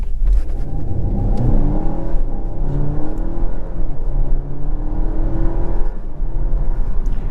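A 2023 Dodge Hornet GT Plus with a 9-speed automatic accelerates hard from a dead stop, the engine's drone climbing steadily and dipping briefly at quick gear shifts, loud and continuous from inside the cabin.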